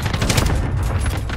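Dense, loud gunfire from the Call of Duty Warzone video game, a rapid burst of overlapping shots packed into a brief moment.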